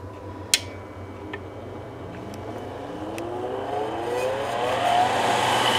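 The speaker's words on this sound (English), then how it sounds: "So I got the blower going." A blower on a homemade waste oil burner spins up, a rising whine climbing steadily in pitch and volume over a low steady hum, with a couple of faint clicks near the start.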